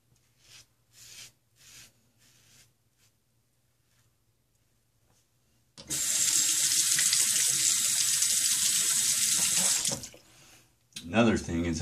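Tap water runs steadily into a sink for about four seconds to rinse a razor during a shave, loud and continuous after a quiet stretch with soft handling sounds, then cuts off.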